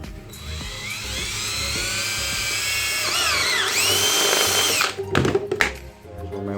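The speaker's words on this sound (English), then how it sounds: "I'm gonna go ahead and drill the input hole." A high-pitched power drill whines steadily, its pitch dipping as it bites through PVC pipe to make an input hole for a small overflow, then stops with a few clattering knocks.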